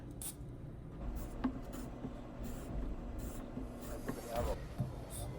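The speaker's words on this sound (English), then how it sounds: "I'm gonna zest the other one." A lime is rubbed against a zester, producing soft, repeated scratchy rasps close by, with quiet talk in the background.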